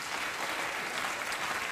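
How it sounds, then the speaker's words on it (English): A television studio audience applauds throughout, steady dense clapping from a crowd with no break. "I don't know why you're applauding."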